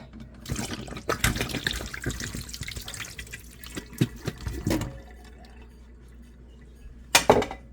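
Juice from pressure-canned pork is strained off into a sink, with bursts of pouring and splashing liquid, metallic clatters and drips, then quieter moments and a final sharp clank.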